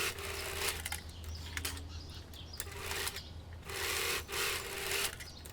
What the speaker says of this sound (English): I sew the two parts together on the sides.